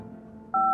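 A single telephone keypad tone beeps briefly in a video game after a quiet murmur, a clean dual-tone press as a phone number is dialed.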